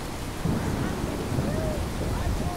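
Steady video-game rain hisses across the whole stretch with low rumbling thunder underneath, a continuous even wash of storm noise with no speech.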